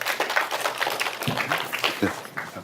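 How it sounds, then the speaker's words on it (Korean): A lecture audience claps to welcome a professor, a busy, fairly loud patter of hands filling the room for a couple of seconds with a few voices mixed in. "오늘 강의를 위해 거기로 와주신 한상희 교수님께 큰 박수 부탁드립니다."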